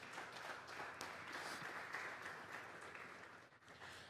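A church congregation at a Sunday morning service gives a sustained, dense round of applause that sounds distant and faint, a steady wash of clapping that dips briefly near the end.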